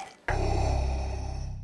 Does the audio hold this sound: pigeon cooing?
no